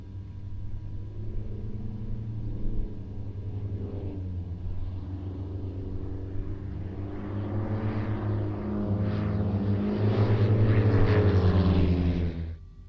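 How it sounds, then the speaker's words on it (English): A Twister light aerobatic kit-built aircraft flies at a Scottish airshow, its propeller engine droning steadily and swelling louder as it passes closer, with a rumbling roar toward the end. "the Twister is a very light aircraft and is capable of speeds up to 162 knots."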